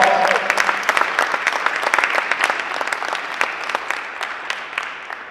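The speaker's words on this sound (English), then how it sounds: "Let's give Vanya another big round of applause." A conference audience at a youth entrepreneurship panel gives a loud, dense round of applause with crisp individual claps, holding steady for about five seconds with a slight taper at the end.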